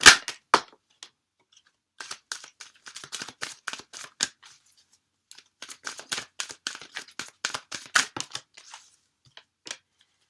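Tarot cards are shuffled by hand in quick bursts of crisp, riffling clicks and flicks, close and distinct, separated by short pauses in an otherwise quiet room.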